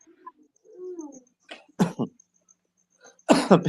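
A few sharp coughs ring out close by in short bursts, two then a louder pair, separated by quiet with a little throat sound before.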